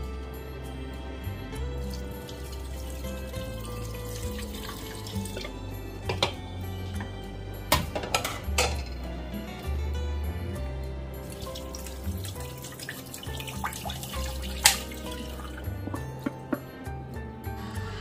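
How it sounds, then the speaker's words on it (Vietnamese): Coconut water being poured into a bowl while making a jelly birthday cake, giving a steady splashing, trickling stream with a few drips and clinks over a long stretch, close and even, with no voice. "thay vì mình cho nước, mình cho nước dừa luôn"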